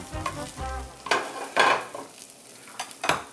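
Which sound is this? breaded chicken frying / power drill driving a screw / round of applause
breaded chicken frying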